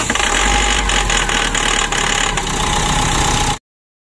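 Car engine idling after a hard-starting fault, a loud steady rough rumble close by that cuts off abruptly near the end.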